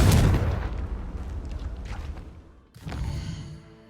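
A Confringo fire spell bursts in Hogwarts Legacy with a loud, booming explosion up front that rumbles and fades, followed by a second, softer blast near the end.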